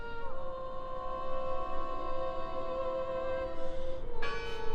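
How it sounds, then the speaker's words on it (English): A church-like bell tolls in the horror game Draugen, set in 1920s Norway, its sustained harmonic ringing lingering through the whole stretch and struck again near the end, loud and resonant with no talk over it. "I heard the bell!"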